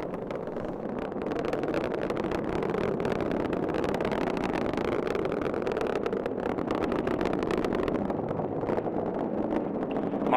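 The TDRS-L launch rocket pushes through the sound barrier as a steady, dense, distant roar with rumbling wind noise, holding level for the whole stretch, with no voices.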